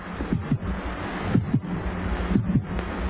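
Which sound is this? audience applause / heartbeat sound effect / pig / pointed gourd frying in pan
heartbeat sound effect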